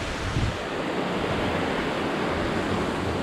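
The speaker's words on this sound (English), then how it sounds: "Going over Bright Angel Creek right now." Bright Angel Creek in the Grand Canyon rushes past below a trail crossing, a loud, steady wash of flowing water that fills the whole moment without a break.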